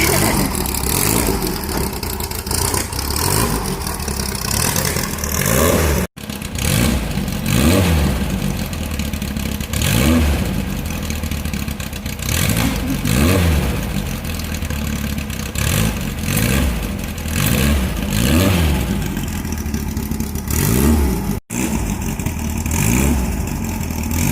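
Engine of a Baja Bug fitted with street tires on the rear, running steadily with repeated revs rising and falling, close and loud throughout, with two brief dropouts and no talking.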